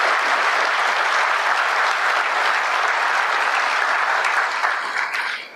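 A crowd at a Brazilian political event claps loudly for the Federal District police and security forces, a dense, sustained roar of applause that fades slightly at the very end.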